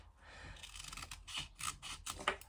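Scissors snip through a strip of chest binding tape in a few quick, close, crisp cuts with no talk.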